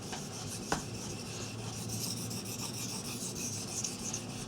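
A Bark River knife is drawn across a Chosera 800 whetstone, with steady, close, continuous rasping strokes and one sharper scrape near the start, no voices.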